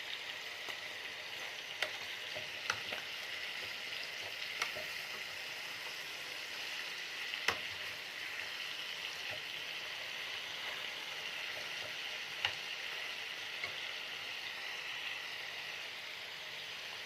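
Chicken liver and gizzards fry in a pan with a steady, close sizzle, while occasional sharp clicks of a utensil stirring the pieces cut through the hiss.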